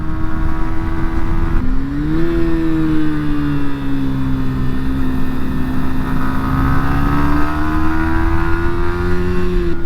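A 2023 Yamaha MT125 or R125 motorcycle engine hums loudly and steadily while riding, its pitch dipping briefly and then climbing again as the revs rise, close and continuous without talk.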